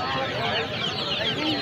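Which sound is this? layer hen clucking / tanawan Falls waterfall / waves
layer hen clucking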